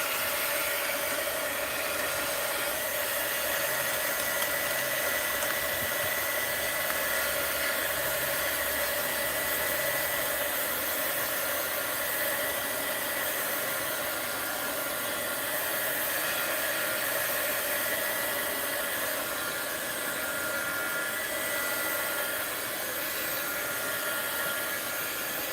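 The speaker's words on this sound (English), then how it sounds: "Heat gun alert" A heat gun blows on a mixed-media art journal, giving a constant close whooshing hiss with a steady motor whine that runs unbroken and alone.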